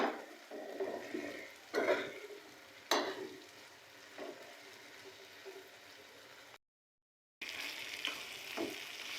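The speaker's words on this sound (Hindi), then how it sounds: "अब मैं इसमें ऐड कर दूंगी भिंडियाँ। भिंडियों को अब हम अच्छे से मिक्स करेंगे।" Okra sizzles and fries in masala in a pan, with scraping stirs and bursts of louder crackling as it is mixed, then a short silent gap before the frying resumes.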